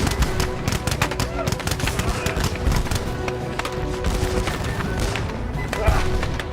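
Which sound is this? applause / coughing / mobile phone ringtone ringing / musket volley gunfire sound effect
musket volley gunfire sound effect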